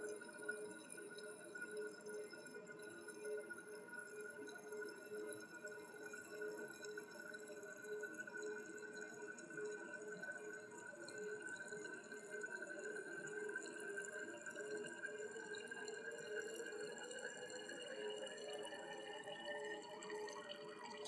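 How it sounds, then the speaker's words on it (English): Deionized water squirted from a wash bottle into a glass volumetric flask in a chemistry lab, a steady, faint trickle and dripping that rises slightly in pitch as the flask fills, with no talking. "add deionized water until you're just a little bit below the line from your wash bottle"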